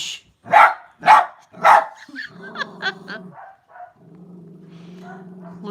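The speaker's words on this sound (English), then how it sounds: "All the wee dogs are barking now." Three sharp, loud barks from small dogs in quick succession, then quieter whining and yips with a low hum underneath.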